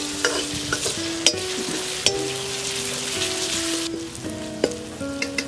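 Tadka tempering for Punjabi sarson ka saag sizzles steadily in a pan, with a continuous frying hiss and a few sharp stirring clicks of a spoon against the metal.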